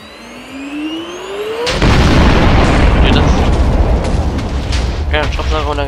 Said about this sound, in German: Und dann gab es so einen riesen fetten Knall.